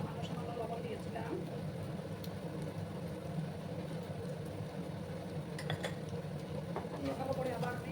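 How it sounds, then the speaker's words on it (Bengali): Bitter gourd and egg being stirred together in a cooking pan, soft scraping and occasional clinks of a utensil against the pan under ongoing talk in a home kitchen. "ভালো করে আবার আমি মিক্স করলাম"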